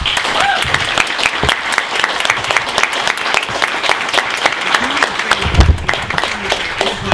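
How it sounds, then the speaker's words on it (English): Loud applause for two speakers after talks at an animal ethics lecture, close, sharp individual claps forming an uneven patter, with a brief voice or low bump near the end. "And let's give them a big applause"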